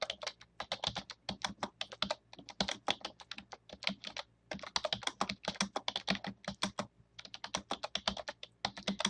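Steady typing on a computer keyboard while entering data, quick clusters of crisp keystrokes with short pauses between words, close and clear with no talk over it.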